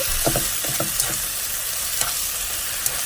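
Ground pork is stirred and mixed in a hot pan, a loud dense sizzle with a quick run of spatula scrapes early on, then steady frying hiss with occasional light clicks.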